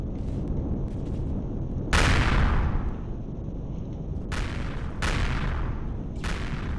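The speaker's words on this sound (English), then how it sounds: "You can see explosions down there." Weapons fire and explosions striking turrets in the space game Empyrion: a run of four or five sharp, heavy booming blasts with decaying tails over a constant low rumble, loud and close, with no speech.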